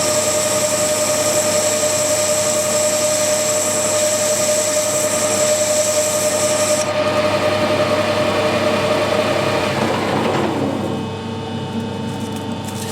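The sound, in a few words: lathe cutting a recess groove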